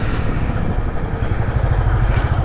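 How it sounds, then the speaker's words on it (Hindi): Motorcycles sit idling in a traffic jam on the road from Mukteshwar to Delhi, a loud, steady low engine rumble with uneven clatter that runs without a break and no voices over it. "भाई आगे तो बाइकें भी रुकी हुई है।"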